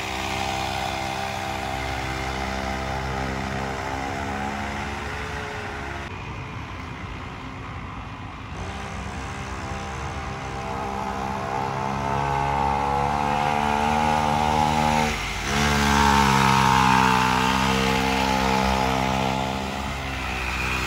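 A small motor scooter engine runs nearby, a steady buzzing drone that rises in pitch and loudness as it revs through the second half, with no talking over it.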